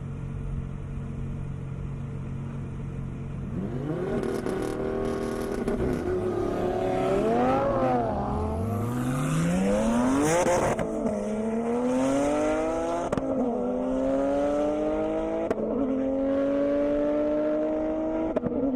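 An 1100 hp Porsche Turbo races down the Indy airstrip with a loud engine roar, first a steady drone and then hard acceleration with rising revs, gear shifts and repeated upward sweeps, with no voices heard.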